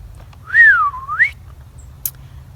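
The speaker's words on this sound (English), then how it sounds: "Yes, I can whistle." A person whistles a single rising-and-falling tone, a clear swoop lasting under a second, heard alone over a low outdoor rumble with a faint click afterward.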